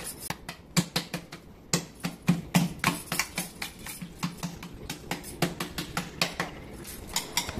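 Hands pat hot gram flour dough flat onto a plate in a fast run of close, crisp slaps, irregular in rhythm and moderately loud, with no talk.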